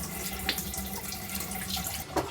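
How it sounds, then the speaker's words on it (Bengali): Tap water runs steadily over a household water filter being washed at a sink, a continuous close splashing hiss with a couple of brief louder splashes and no talk. "এখন সব খুলে খুলে ফিল্টার ধুয়ে একবারে সেট করে ফেলি"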